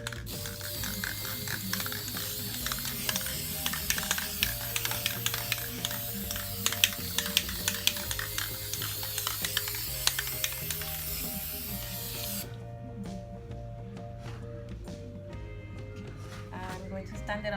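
Spray paint goes onto a picture frame for a second coat in a long continuous hiss mixed with clicking, close by, then it cuts off and leaves sparse taps near the end.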